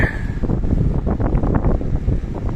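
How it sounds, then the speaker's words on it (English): Steady gusty wind buffeting the microphone, a continuous low rumbling roar with slight surges, no voices. "it's a windy day"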